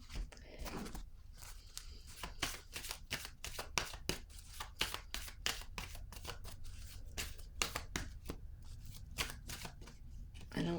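Tarot cards are shuffled in a rapid, continuous run of crisp riffling snaps, close and fairly quiet, filling the whole stretch with dense, uneven bursts of card slaps.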